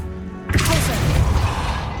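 A Pulso force spell strikes in Hogwarts Legacy with a sudden loud smashing impact, then a ringing crash that trails off under continuing game noise.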